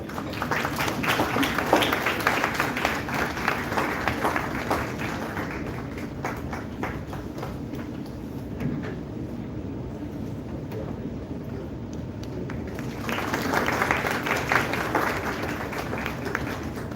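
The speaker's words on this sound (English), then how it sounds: "Please applaud, guys." An audience at a medical sciences institute's international event applauds steadily for the guest speaker, a broad, sustained wash of clapping heard from within the hall with no talking over it.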